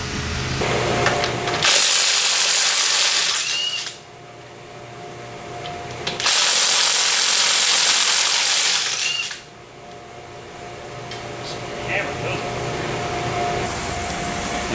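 A chipper shredder powered by an AMC engine, chewing through material in two long loud bursts of harsh grinding over a steady engine drone, with a third burst starting at the end.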